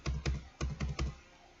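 Keys struck on a computer keyboard while entering a Microsoft Excel formula, five distinct clicks in quick uneven rhythm over about a second, close and fairly quiet, then near silence.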